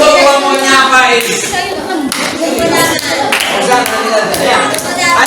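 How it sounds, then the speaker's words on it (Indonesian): A class of schoolchildren claps for a student group during a lesson. The clapping is close and loud, with rhythmic bursts under children's voices calling out over it. "tepuk tangan untuk kelompoknya Faiz"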